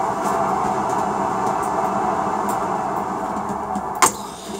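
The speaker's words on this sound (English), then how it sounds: "Get rid of the fume extractor." A soldering fume extractor runs during a TV board repair, giving a steady, close whooshing fan drone throughout, with one brief click near the end.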